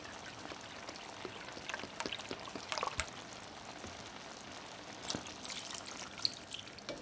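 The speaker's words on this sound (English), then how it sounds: "You're also going to be adding in 1 cup of beef broth." Beef broth pours into a pan of creamy steak bites, a faint trickling splash with light drips and patters, fairly quiet and without voices.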